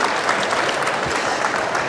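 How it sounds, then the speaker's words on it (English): Applause from a live audience at a talk on horse fear, nerves, anxiety and trauma: steady, dense clapping that fills the room evenly for the whole stretch, close and fairly loud, with no voices over it. "let's give Jenni a huge round of applause"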